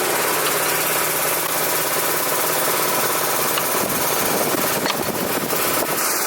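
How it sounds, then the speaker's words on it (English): A 1970s forklift engine idles loud and close, a steady mid-pitched rumble with a faint knocking vibration running throughout and no other sounds over it. "It's a 1970s forklift."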